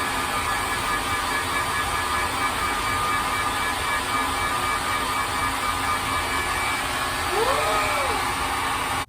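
A hair dryer blows steadily on wet yarn, a constant loud whooshing hum that fills the whole stretch without pause, with a brief faint tonal sweep near the end before it cuts off.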